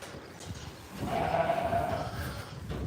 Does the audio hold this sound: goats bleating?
yes